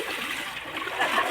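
Water splashing and churning as children bathe in a village pond on a hot day, continuous nearby splashes that swell toward the end, with faint voices in the background.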